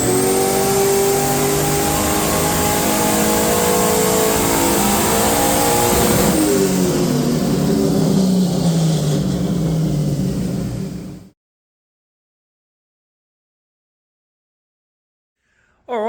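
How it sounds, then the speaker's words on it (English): Holden XG ute engine on a dyno run, a loud sustained rev climbing steadily in pitch for about eleven seconds before cutting off abruptly into silence. "let's see if we can make a couple more numbers on this dyno run"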